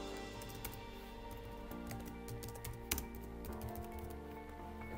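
A customer types a review into a mobile business app, producing faint, soft tapping clicks in an uneven patter under a steady background hum, with no talking.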